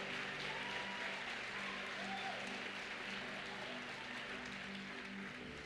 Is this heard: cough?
no